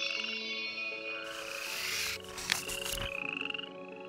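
Frogs croaking together in a steady chorus, with layered high trilling calls running throughout and a louder burst in the middle; no voices.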